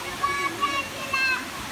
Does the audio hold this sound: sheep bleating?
no